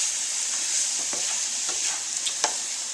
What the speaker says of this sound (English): Then what I'm going to do is stir all of the spices